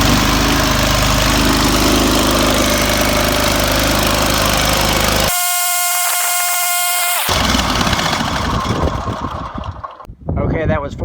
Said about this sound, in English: The mower starts up just fine, runs for about 60 seconds and dies.